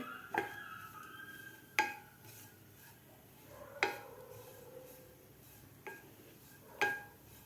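Grated coconut is stirred in ghee in a pan over a very low flame. A spoon clinks against the pan about five times at a slow, uneven pace, quiet and close, with no clear sizzle.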